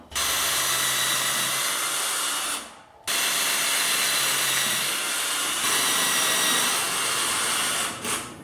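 A power drill bores pocket holes in 2x4 wood braces, two long loud whirring runs close by, separated by a brief pause, with a short restart at the end.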